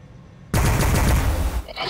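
Gunfire in the Warhammer 40,000: Battlesector video game, a sudden loud burst of rapid automatic shots that starts after a quiet moment and rattles on for over a second before tailing off.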